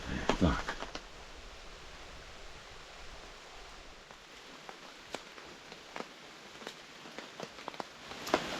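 Steady rain falling by the Southern Bug river, a soft continuous hiss with scattered sharper drops and taps close by, fairly quiet throughout.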